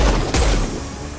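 Gunfire from a Mass Effect combat scene: a loud, sharp burst of shots crackles in quick succession, then trails into a booming rumble with no speech.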